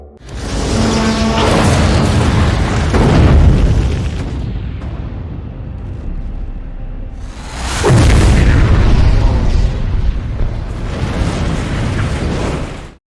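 A massive explosion booms and rumbles, followed by a long roaring blast, then a second powerful eruption with sustained heavy rumble.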